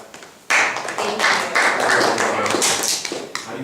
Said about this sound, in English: we will give Ms. Starr a round of applause because she did a great job